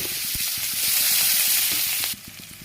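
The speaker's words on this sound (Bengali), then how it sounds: "পেঁয়াজটা ভাজা ভাজা হয়ে গেছে" Chopped onions fry loudly in oil with bay leaf, dried chilli, cinnamon and whole cumin after a fish head was fried, a steady close sizzle with small crackles that drops in level near the end.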